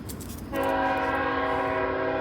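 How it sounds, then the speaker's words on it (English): A passing train blasts its horn in a long, steady, loud chord that starts abruptly and holds, over a rumbling background. "Train."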